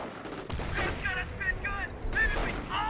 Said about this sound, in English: That arty shot is right on the MG and the bolts in the up track.